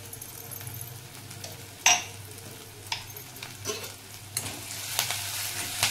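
Sweet corn and capsicum sautéing in a pan for a mixed vegetable bhaji, a soft continuous sizzle with occasional clinks and scrapes of a spoon, growing a little busier toward the end, close and fairly quiet.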